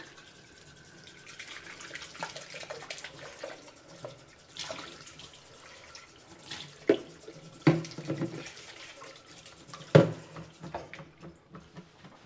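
Running tap water splashes as the filter of a Karcher FC5 Cordless floor cleaner is rinsed under it, with a soft steady flow broken by louder splashes and clunks and no speech.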